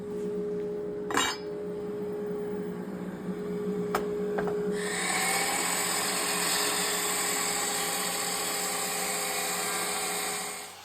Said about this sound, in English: Using the radial arm saw, I'm going to cut them into the lengths that we need.